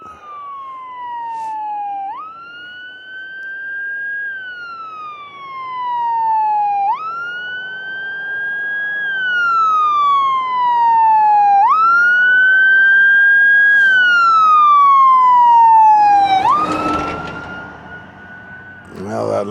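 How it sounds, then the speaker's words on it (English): Several sirens wail in repeating rising-and-falling sweeps, growing louder as vehicles approach, ending with a burst of rumbling traffic noise. "a cop, the fire truck, and that's an ambulance."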